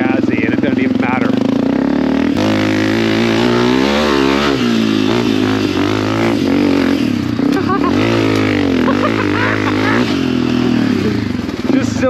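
A Honda CRF250F dirt bike engine revs hard and close while being ridden, its pitch rising and falling steadily throughout as a rider talks over it.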